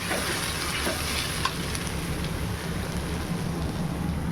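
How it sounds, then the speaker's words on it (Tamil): Garam masala, chili powder and turmeric sauté in a pan for a chicken curry, giving a steady, close, dense sizzle with faint scraping stirs throughout and no voices. "ஒரு டீஸ்பூன் கரம் மசாலா கொஞ்சமாக கலருக்காக தனி மிளகாத்தூள் மஞ்சத்தூள் போட்டு வதக்கிக்கலாம்"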